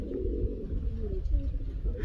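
Soft, low cooing calls of pigeons repeat over a dull background rumble.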